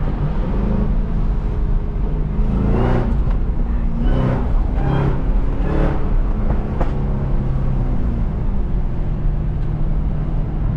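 A tuned Cadillac CTS-V with a supercharger drives along, a loud constant engine drone from inside the car with a few rising whining sweeps as the throttle opens, then settling back to a steady cruise.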